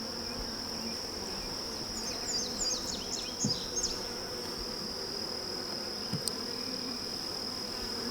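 Honey bees droning steadily around an open hobbyist hive during a frame inspection, a dense close buzz that holds throughout with a few louder passes of single bees near the microphone, no talking.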